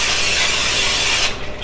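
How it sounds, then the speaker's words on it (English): Cooking spray hisses steadily from an aerosol can onto a heated pan for about a second, loud and close, then cuts off. "Spray it up good"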